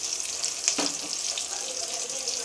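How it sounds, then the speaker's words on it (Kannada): Chopped tomatoes fry in a hot oil tempering for spinach sambar, giving a steady, close sizzle throughout with a brief stirring scrape near the middle and no talking. "ಇದು ಹಸಿ ಸ್ಮೆಲ್ ಹೋಗೋವರೆಗೂ, ಸಾಫ್ಟಾಗಿ ಬೇಯೋವರೆಗೂ ಸ್ವಲ್ಪ ಹೊತ್ತು ಫ್ರೈ ಮಾಡ್ಕೊಳ್ಳೋಣ."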